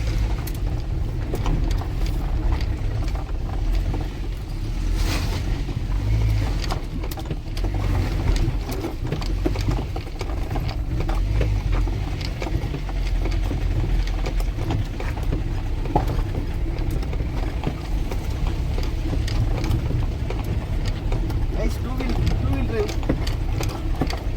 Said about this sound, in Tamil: இனி நம்ம இதில் தான் வண்டி ஏற்றி கொண்டு போக போகிறோம். ஷைலோவில் போகிறோம்